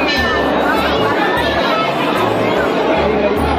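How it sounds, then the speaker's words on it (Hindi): A dense crowd of pilgrims chatters at a temple in Rajrappa, a loud continuous wash of overlapping voices with no single speaker standing out, close and steady throughout. "बहुत ही काफी ज्यादा भीड़ है।"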